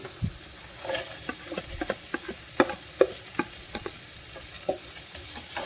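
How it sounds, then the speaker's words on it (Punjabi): A spoon stirs roasted dry fruits and vegetables through a pan of steamed rice, giving a string of light scraping clacks and soft sizzling, close and fairly quiet, with no voice. "ਤਾਂ ਇਹਨਾਂ ਨੂੰ ਵੀ ਆਪਾਂ ਇਹਦੇ ਵਿੱਚ ਮਿਕਸ ਕਰ ਦਾਂਗੇ"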